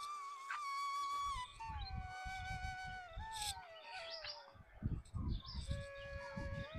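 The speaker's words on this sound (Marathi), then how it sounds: "पक्ष्यांचा किलबिलाट ऐकायला येतोय तुम्हाला" Birds chirp and whistle in a cool, misty Amboli forest, with several clear song lines overlapping near and far, over a low rumbling, murmuring background that swells in bursts.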